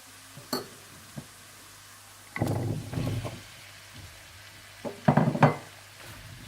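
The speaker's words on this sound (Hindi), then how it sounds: "और इसे भी थोड़ा सा भून लें।" Potatoes frying with garlic in a pan for aloo methi, heard as scattered stirring scrapes and soft sizzle bursts, with a quieter gap before louder clatter near the end. No one speaks.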